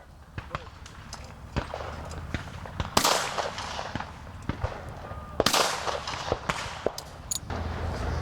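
Shotgun blasts at a clay shooting championship held at the National Shooting Complex in San Antonio: two loud, sharp reports stand out among scattered smaller cracks and clicks, over faint background murmur and occasional talk.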